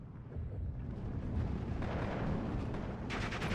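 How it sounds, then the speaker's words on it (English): A ground-attack aircraft makes a strafing run in the wartime strategy game Steel Division 2, a dense rumbling burst of gunfire and explosions that holds steady for several seconds with no talk over it. "even going to come in for a strafing run here onto the Hasadok"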